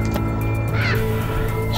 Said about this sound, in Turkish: Şu an kuş sesleri geliyor evden lan.